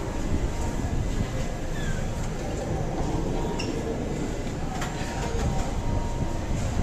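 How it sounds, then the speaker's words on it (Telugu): Steady low rumble inside the Hyderabad to Kolkata train 07221 running slowly, with faint rattles and occasional clinks over continuous rolling noise and no clear talk. "ఇప్పటికీ ట్రైన్ అయితే చాలా స్లోగానే నడుస్తుంది,"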